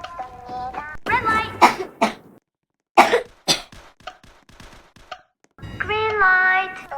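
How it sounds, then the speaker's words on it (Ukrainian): Several harsh coughs and throat-clearing sounds break up a person's speech, loud and close, with short pauses between them. "Я кашляю, я прихворів"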